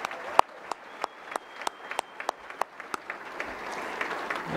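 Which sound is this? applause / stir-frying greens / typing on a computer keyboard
applause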